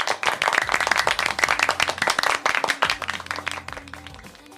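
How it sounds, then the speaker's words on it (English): A short round of applause, a dense patter of hand claps from a small group that builds and then tapers off, with no talking over it. "We definitely have earned a round of applause."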